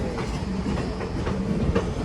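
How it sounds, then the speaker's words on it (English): A passenger train on the Indiana Rail Experience line rolls past nearby with a continuous rumble and rhythmic clickety-clack of wheels over rail joints, with no talk. "This is the same train from earlier."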